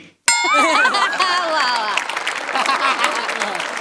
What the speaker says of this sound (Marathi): सगळ्यात जास्त आज टाळ्या वाजल्या पाहिजेत कुणासाठी मला सांगा